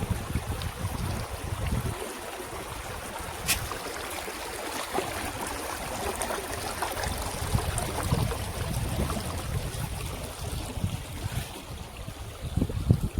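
Stream water rushing over and between rocks near Penchalakona waterfall, a steady broadband wash with a constant mid-loud rush and occasional splashes, heard alone without talk.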